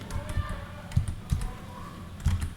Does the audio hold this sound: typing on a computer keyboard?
yes